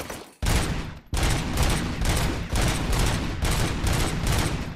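Continuous rapid gunfire in the Robocop: Rogue City video game as lights are shot out, loud and close, sustained bursts with brief gaps and no talking.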